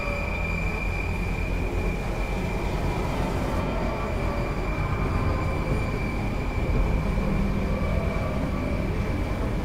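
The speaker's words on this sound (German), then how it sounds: "Wie lange fährt denn die U-Bahn hier?" Subway train riding in the Brutal Doom mod Extermination Day, a continuous loud rumble of rolling wheels with a steady high squeal tone running through, no speech.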